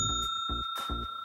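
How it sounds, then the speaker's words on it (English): A little hotel bell rings with a sustained metallic ring running through the whole moment, while several soft dull knocks land at a regular rhythm beneath it. "take the picture, and ding the bell"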